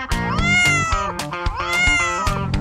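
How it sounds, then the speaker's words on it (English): A cat meows loudly and close by, about three drawn-out calls rising and falling in quick succession, alone with no other sound. "cat"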